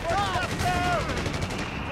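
MG-34 machine gun fire in Company of Heroes 3 during an Afrika Korps multiplayer battle, heard as short rattling bursts under shouted voice lines and a whistling tone.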